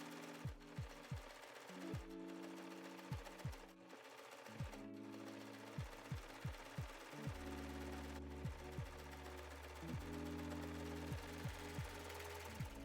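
Sewing machine stitching a trouser inseam with a 3/8 inch seam allowance on elastic waist trousers: steady, rapid mechanical chatter broken by regular short stops and restarts, close and fairly quiet.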